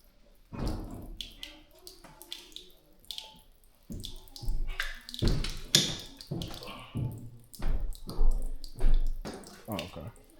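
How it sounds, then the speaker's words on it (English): Splashing, trickling water leaks from a pipe in irregular bursts close by during house renovation work, with scattered clatter and people talking over it. "There's water coming out of there."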